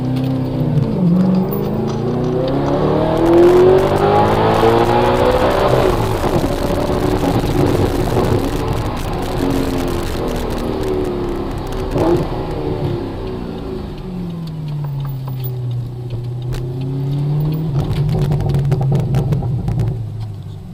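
An Audi R8 V8 revs and accelerates hard, the engine note sweeping up and down repeatedly through gear changes, loud and sustained with cabin rumble, no talking.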